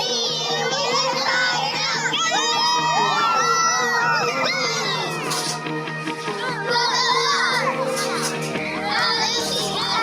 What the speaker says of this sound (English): Good luck, we're cheering you on from a distance.